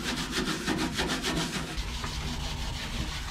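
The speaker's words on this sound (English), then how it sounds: "I'm going to scuff on the toe boards with some Scotch-Brite" A maroon Scotch-Brite pad scuffs the toe boards of a 1959 Dodge B100 truck, giving a steady, close abrasive rubbing with quick repeated back-and-forth strokes and no voices.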